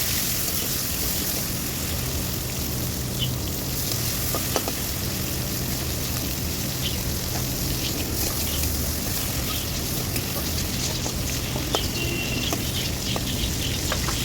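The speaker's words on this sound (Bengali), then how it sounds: "চিংড়ি মাছটা বেশ ভালো করে মাখিয়ে রেখেছিলাম, নুন হলুদ দিয়ে দিলাম তেলের মধ্যে।" Prawns coated in salt and turmeric fry in hot oil, giving a steady, loud sizzle that runs unbroken throughout with faint occasional crackles and no talk.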